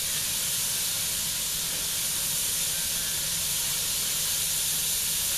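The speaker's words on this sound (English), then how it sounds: "next we'll put in onions and saute them" Sliced yellow onion sautéing in a pan makes a loud, steady hiss of frying that holds evenly without pauses.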